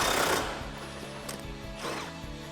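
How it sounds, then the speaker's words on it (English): A 10mm socket ratchet loosening rear bumper bolts on a 2006-2014 Ford F150, fast clicking pawl ratchets in short bursts, close and moderately loud, with no speech. "Remove those with your 10mm socket."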